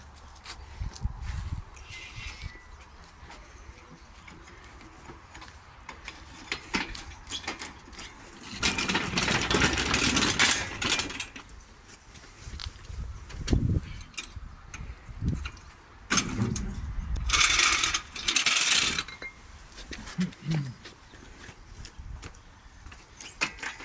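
Engine crane and chains taking the weight of an El Camino engine for removal: metallic clanks, rattles and scraping bursts in a workshop, loudest in two stretches with quieter handling noises between.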